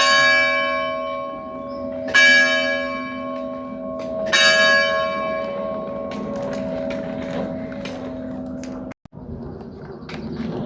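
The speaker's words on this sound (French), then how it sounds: "Hop, la cloche." A church bell strikes three times, each clang ringing out and fading slowly, with faint background noise between strikes.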